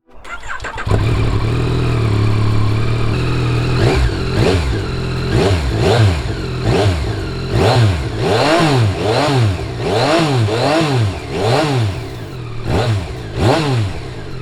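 A 2022 Yamaha Tracer 9 GT sport touring motorcycle engine cranks and catches, then idles roughly and is blipped repeatedly, revving up and dropping back in a steady rhythm, loud and close.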